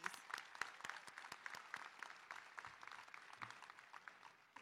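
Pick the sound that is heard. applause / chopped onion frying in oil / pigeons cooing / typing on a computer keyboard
applause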